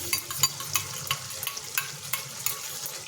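Soft, rhythmic scraping and a light sizzle as soy and other sauces are stirred together in a pan, quiet and close, steady strokes repeating throughout.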